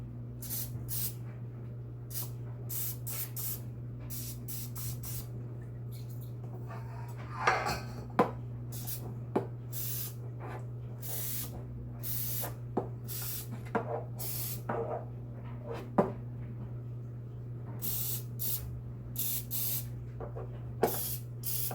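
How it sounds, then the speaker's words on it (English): Cooking spray hisses onto a metal muffin tray in repeated short bursts, close and clear, with occasional clinks of the pan between sprays. "spray them to where they're all covered"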